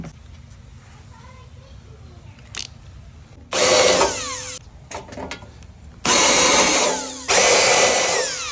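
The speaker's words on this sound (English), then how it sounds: "now I'm going to do the countersink." A power drill countersinks holes in a Ranger VE storefront door frame, whining in three close, loud bursts with quieter handling noises and faint room sound between them.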